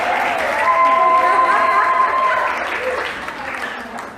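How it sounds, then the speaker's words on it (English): Audience applause continuing as a guest walks up to an interview stage, a steady roar of clapping that slowly tapers with faint voices beneath. "Keep on clapping till she gets here."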